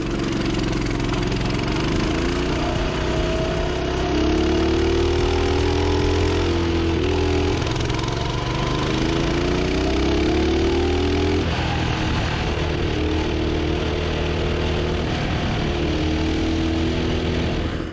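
Coleman CT200U-EX mini bike engine running steadily while riding, a loud continuous mid-pitched drone with rising and falling revs as the throttle changes, close and alone.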